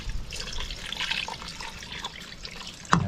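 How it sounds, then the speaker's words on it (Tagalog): Water poured into a cooking pot of gourd (karabas) being stewed with coconut milk and pepper, a continuous close trickle and splash for about three seconds with a sharp clink near the end. "Lagyan pa natin tubig"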